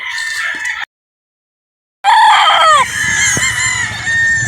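Chickens and roosters on a poultry farm, including Boston and yellow-legged breeds, cluck and crow loudly at close range. A burst of calls is followed by a short silence, then dense, overlapping crowing and clucking that continues to the end.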